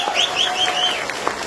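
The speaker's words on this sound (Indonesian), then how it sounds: "tepuk tangan dong rekan-rekan sekalian" Applause from an audience at a medical seminar in Indonesia, a steady clapping wash with whistling or tonal squeals and occasional sharper claps rising over it.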